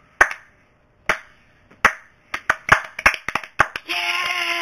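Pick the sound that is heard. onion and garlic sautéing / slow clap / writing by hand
slow clap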